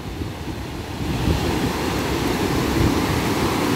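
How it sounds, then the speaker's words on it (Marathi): Ocean surf at Ganpatipule beach rolls in with a steady, broad roar of breaking, foaming waves, mixed with a little wind noise. "फेसाळणाऱ्या ज्या लाटा आहेत त्या सतत एकामागोमाग एक अशा येत असतात"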